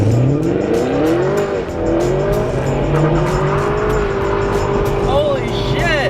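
Nissan 240SX with SR20 engine accelerating hard, loud continuous engine roar with rising pitch and tire squeal throughout, close and steady under occasional talk.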